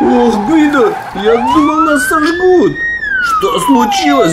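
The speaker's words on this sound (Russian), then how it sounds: "кажется, это сирена!" A cartoon police siren wails in a loud rising and falling sweep, heard close and mixed under animated characters talking.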